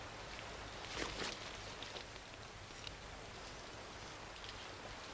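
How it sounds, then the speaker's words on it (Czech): Rain falls outside, a steady soft hiss of drops that stays even and fairly faint throughout, with no voices. "venku prší"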